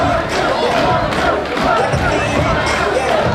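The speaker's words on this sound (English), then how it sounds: "That Machine MMA crowd loving it." A crowd at a Machine MMA event cheers and roars continuously after a fighter's win, a dense, loud wash of voices that stays steady throughout.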